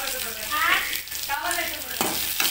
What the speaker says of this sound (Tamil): வெங்காயம் அப்படியே கொஞ்சம் வதங்கட்டும்.